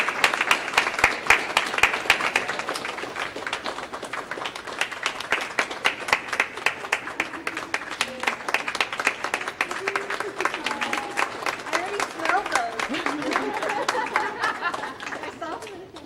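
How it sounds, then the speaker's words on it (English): An audience claps in a round of applause for a retiring teacher at a high school science awards ceremony, sharp dense claps fading slightly mid-way, with chatter and some chuckling mixed in beneath. "Maybe give her a round of applause for all of the hard work she's done for Londonderry"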